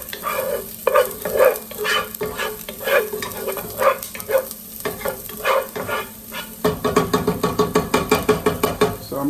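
Onions and garlic frying in oil in a pot, stirred briskly: loud, close scraping strokes repeat in a quick, uneven rhythm over a crackling sizzle and speed up toward the end. No speech.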